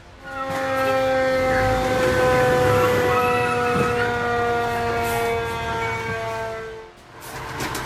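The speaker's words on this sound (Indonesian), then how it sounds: "Ketika sirine mobil pemadam berbunyi, setiap pengendara wajib menepi." An Indonesian fire engine siren blares close and loud in traffic, holding a steady, strongly harmonic tone for several seconds. It fades slightly near the end, then cuts off.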